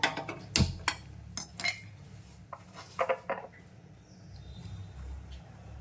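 A metal kadai set down on a kitchen stove and the burner switched on, heard as a cluster of sharp clanks and knocks early on, then a soft steady hiss with no talking.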